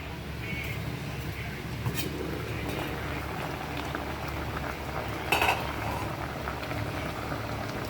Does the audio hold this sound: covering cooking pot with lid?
yes